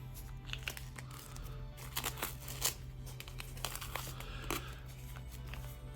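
Duct tape being wrapped for a fire kit gives close, irregular crinkling and short peeling rasps over a steady low hum.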